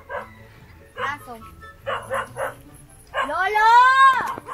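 Dog barking outdoors in a short series of yips and a drawn-out whining howl, fairly close and loud, with people talking in Filipino around it.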